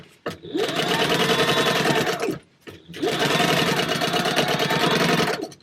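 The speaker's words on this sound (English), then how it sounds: "we're going to take this to the sewing machine and sew 1/4 inch across there" A sewing machine stitches fabric panels for a baby sling in two long steady bursts of fast whirring, with a short pause between runs, loud and close.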